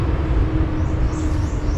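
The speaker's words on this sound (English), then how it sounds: "Tractor in the country" A tractor passes in the countryside, giving a loud, close, steady low rumbling engine drone over a short stretch with no talk.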